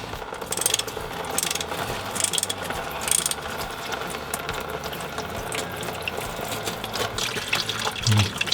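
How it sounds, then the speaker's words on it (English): Ratchet clicking in repeated short runs while bolts come out of an automatic transmission sump, with a steady wash of draining fluid running underneath, close and without voices. "We're ready to take these bottom bolts, the back bolts completely out, and that should drop the sump down"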